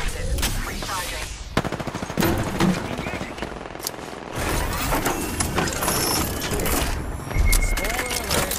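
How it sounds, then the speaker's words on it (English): Heavy automatic weapon fire in a video game, dense bursts of shots and mechanical clatter running throughout, with game voice callouts layered over the shooting. "I'm under fire. Shooting."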